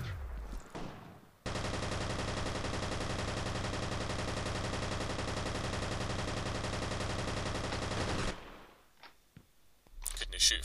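Sustained automatic weapon fire in F.E.A.R. Extraction Point, one long, dense, unbroken stream of shots lasting about seven seconds, loud and steady. Quieter sounds come before it and after it stops abruptly.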